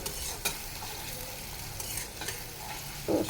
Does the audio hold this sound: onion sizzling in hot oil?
yes